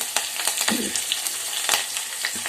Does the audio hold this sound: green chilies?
yes